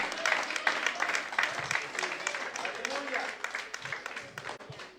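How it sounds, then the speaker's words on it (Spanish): Congregation applauding in a church during a Christmas sermon, a dense steady wash of clapping that fills the whole stretch, with voices and cheers mixed underneath. "Que alguien le dé un aplauso al Rey del Cielo."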